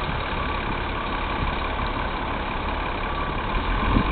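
A bus engine roars steadily at high revs while the driver floors it, stuck in deep snow during a major snowstorm, a loud, continuous, muffled drone without a break or any speech.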